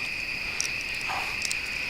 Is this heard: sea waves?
no